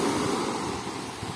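Black Sea surf rushes and washes continuously onto a beach, with a broad hiss of water and some wind, heard briefly and without any voices.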